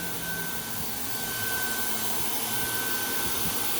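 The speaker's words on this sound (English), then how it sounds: "turn on the vacuum, flip the banner over." Vacuum table of a banner heat welder switched on, a loud, steady blowing whoosh with a constant thin whine running throughout.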